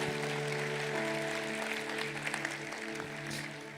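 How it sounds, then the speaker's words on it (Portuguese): Church congregation applauding during a Sunday evening worship service, a steady wash of clapping that fills the clip at moderate level, with a sustained musical tone underneath and no talking. "Vamos dar um aplauso ao Senhor também."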